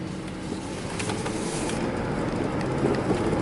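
A car pulls away after being shifted into drive, its engine and road noise a steady, fairly loud rumble that swells slightly as it gains speed, with no talking.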